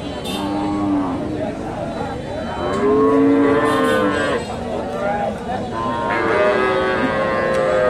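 Cattle at a busy cow market in Bogura, Bangladesh, with several drawn-out moos, some overlapping, close and loud over a steady crowd murmur and people talking.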